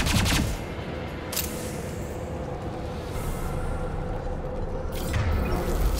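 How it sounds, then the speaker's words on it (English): A pistol in the video game Mass Effect 2 Legendary Edition fires with a shotgun-like blast. Several sharp shots land at irregular intervals over a rumbling battle din. "For some reason, the game's acting like my pistol's a shotgun."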